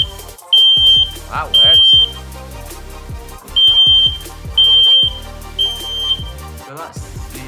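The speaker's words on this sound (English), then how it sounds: "So that's the heat alarm." FireAngel heat alarm mounted on a kitchen ceiling near the cooker sounds its test signal: loud, piercing electronic beeps in a repeating on-off pattern, about five bursts, while a person talks briefly in between.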